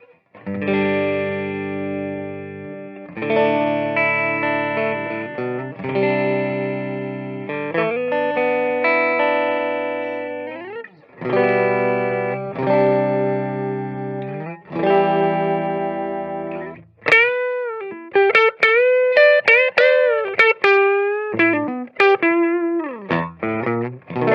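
Electric guitar, a Harley Benton PRS-style with Lindy Fralin Unbucker pickups, on the neck pickup with a warm, rounded tone plays chords and melodic runs, shifting to bent, vibrato-laden lead notes near the end; no voices.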